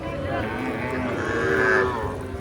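Calves moo at a cattle market in a drawn-out low call, with a second rising moo close by amid faint background noise.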